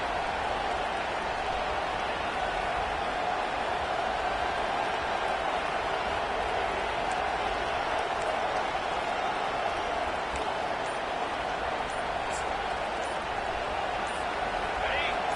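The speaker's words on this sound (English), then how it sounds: "The roar of the crowd trying to fuel this defense to keep them pinned in their own end." A stadium crowd in a college football video game roars steadily, a dense, continuous wash of noise holding at the same level throughout.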